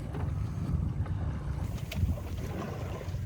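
A small sailboat under sail near Blake Island, with steady wind buffeting the microphone, low rumbling water noise along the hull and occasional soft splashes, all continuous and fairly loud with no talking.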